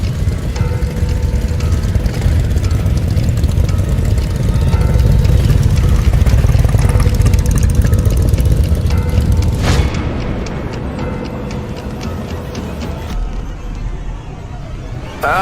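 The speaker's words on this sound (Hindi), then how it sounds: "मोटरसाइकिल की आवाज आई" A loud, steady motorcycle engine roar rumbles close by for several seconds, then eases into a lower, quieter running drone.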